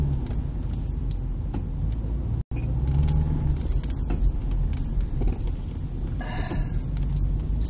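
Engine of a 2002 Subaru Outback LTD with a 2.5 H4 and noticeable throttle lag, pulling uphill under gas: a steady broadband road-and-motor rumble, loud and continuous throughout, with a brief dropout midway and no talk.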